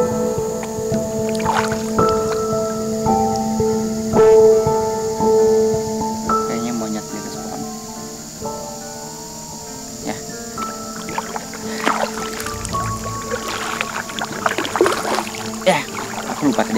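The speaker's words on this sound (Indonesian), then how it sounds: "Jadi aku harus terus mendayung" Canoe paddling on a river in Kalimantan, with paddle strokes and water movement set against a steady outdoor ambience with tonal background sounds.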